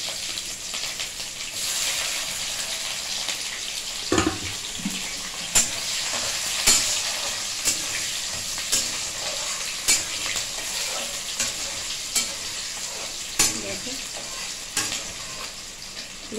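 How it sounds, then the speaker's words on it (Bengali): Cumin and raw onion fry in oil with a bright, constant sizzle, and a spatula scrapes and knocks against the pan at a steady pace as they are stirred. No one speaks. "এখানে তেল দিয়েছি, আমি জিরে দিচ্ছি, কাঁচা পেঁয়াজ দিয়ে দিলাম আমি এখানটায়"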